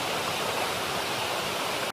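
A waterfall pours in a steady, dense rushing roar that stays constant throughout, close and loud, with no voices.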